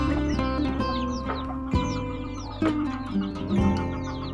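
A mother hen of a modern cross-bred chicken flock clucks steadily and close by, while her young chicks peep in high, continuous chirps all around her.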